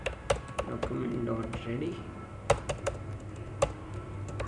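Keys clatter on a computer keyboard as code is typed, with sharp irregular clicks and occasional harder taps, while someone speaks over the typing.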